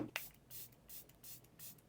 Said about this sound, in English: This is my face wet down with setting spray.